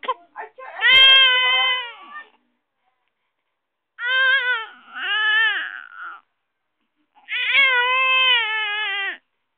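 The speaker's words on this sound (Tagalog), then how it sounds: "Para marinig yung iyak mo." A baby cries in three long, wailing bursts separated by pauses, loud and close, with a thin, high, almost mewing tone.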